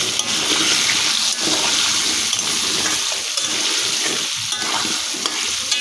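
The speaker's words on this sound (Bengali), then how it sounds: "আলুগুলোকেও একটু ভেজে নিচ্ছি।" Potatoes frying with salt and turmeric in a pan: a loud, steady sizzle close by, with intermittent stirring scrapes and bubbling crackles throughout.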